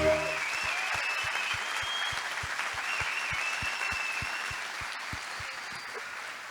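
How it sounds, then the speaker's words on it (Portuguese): Congregation at a Thanksgiving church service clapping hands in a steady, even rhythm, roughly two claps per second, sustained and fairly close, with a faint sung or spoken tone in the background. "eu vou pedir para vocês continuarem batendo palmas"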